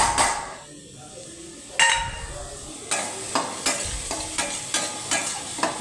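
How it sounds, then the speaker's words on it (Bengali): Onion, garlic, tomato, salt and turmeric sizzle in a pan for chicken curry, with a steady hiss under a run of regular scraping stir strokes close up. "টমেটোগুলো যাতে গলে যায় সেই জন্য ভালো করে পেঁয়াজ, রসুন স্বাদ মতো মিশিয়ে নিচ্ছি, আবার নাড়িয়ে দিচ্ছি"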